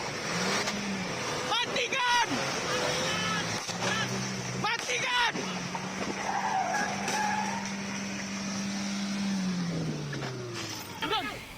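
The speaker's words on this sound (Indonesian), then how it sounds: "polisi sempat beberapa kali melepaskan tembakan peringatan ke arah mobil yang melaju kencang itu" A car racing at speed during a police chase in Pekanbaru, with continuous engine roar, tire squeal and skidding, under excited voices talking throughout.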